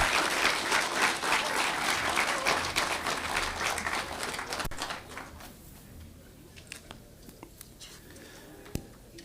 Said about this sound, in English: A big applause, please, for the Vice Chancellor.